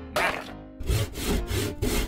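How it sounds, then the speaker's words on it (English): A hand saw rasps through wood in about four rhythmic back-and-forth strokes, close and fairly loud. "Cut a little bit of wood."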